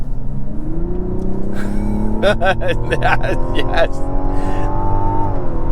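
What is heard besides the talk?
Mazda CX-90 inline-6 engine exhaust while accelerating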